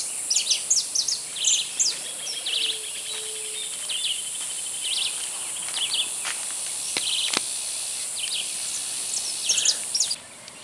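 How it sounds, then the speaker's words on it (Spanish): Birds call and sing along a shaded path under acacias, mulberries and carob trees in a nature reserve in Esperanza, Santa Fe, Argentina; bright chirps and short trills repeat over a steady high insect drone, with faint footsteps. "se escuchaban las voces de las aves"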